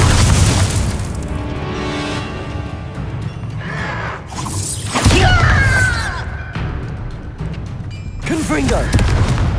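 Confringo fire spells burst in the video game Hogwarts Legacy: several loud, booming blasts with crackling tails follow one another, and a voice speaks between them.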